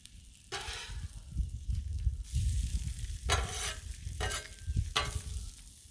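Eggs fry on a griddle, with a steady close sizzle and several sharp scraping strokes of a spatula stirring and moving them.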